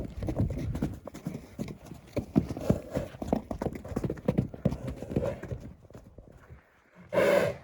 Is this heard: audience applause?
no